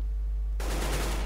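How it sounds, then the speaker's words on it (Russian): Gunfire in CS:GO on the Inferno map, a sudden dense burst of rapid automatic shots that cuts in after a quiet moment and keeps rattling loudly to the end. "Везде где-то стрельба, но нам пока никто не появляется"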